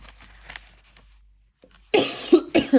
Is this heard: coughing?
yes